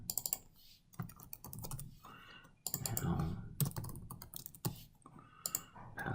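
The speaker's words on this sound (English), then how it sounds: "Type password." Fast bursts of keystrokes on a computer keyboard, close and crisp, arriving in uneven runs with short pauses, alongside stretches of speech.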